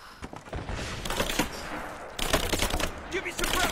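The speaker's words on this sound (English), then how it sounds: "Give me suppressing fire now." Gunfire in a video game firefight: dense, sustained bursts of automatic shots crackle through the whole stretch, with a brief lull before a louder second barrage, under a busy battle mix.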